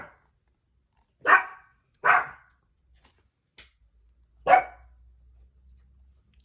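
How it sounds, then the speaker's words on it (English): Several dogs barking indoors: three sharp, loud barks in quick succession, then a fainter yip and one more loud bark, with quiet gaps between them and no talk. "pardon my dogs, apparently they want to be rude right now."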